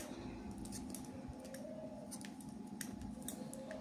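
Scissors quietly snip yarn during knitting of openwork booties on five needles, with faint, soft clicks over low room hum.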